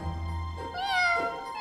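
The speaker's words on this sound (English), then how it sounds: "Oh! They're little kittens!" Little kittens give a short, high, rising meow up close, heard on its own with no talking.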